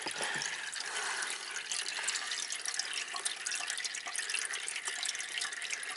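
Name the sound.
water draining from Subaru passenger floor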